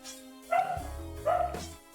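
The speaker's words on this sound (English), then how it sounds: "that's a dog" A pet dog named Chester barks twice, two short close woofs with a brief whine between them, alone against a quiet room.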